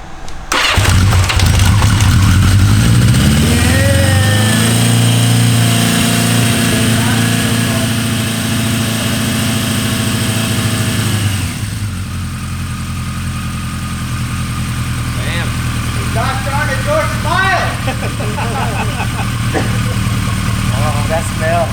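A cheap used motorcycle cranks over on its start button, catches with a loud roar, then settles into a steady, slightly uneven idle close by, with voices faintly in the background.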